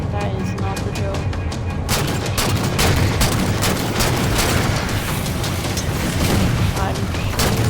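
Video game gunfire in a dense, continuous barrage of shots and booms, loud and sustained throughout with faint talk mixed in.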